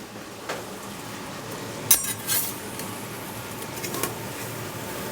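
Detroit-style pizza in a thin metal pan being turned on a flat griddle top, a few light metallic clinks and scrapes over a low background hiss of cooking.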